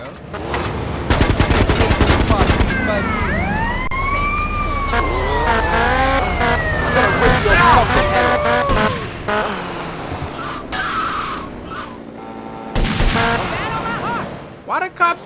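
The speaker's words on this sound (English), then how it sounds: "Why the cops ain't shooting at the people shooting at me?" Gunfire and wailing police sirens in the video game GTA Liberty City Stories, rapid shots cracking over a rising and falling siren with car noise, loud throughout, while someone talks over the action.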